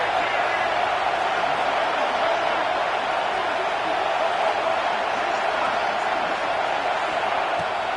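Stadium crowd at an American football game on a fourth-down play, a steady, dense roar that stays loud and unbroken throughout with no distinct cheers or applause standing out.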